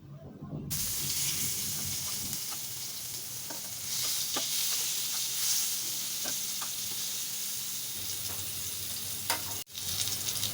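Kakrol (spine gourd) pieces stir-fry in hot oil with a loud, continuous sizzle, marked by occasional clinks and scrapes of a spatula turning them, close by and without speech.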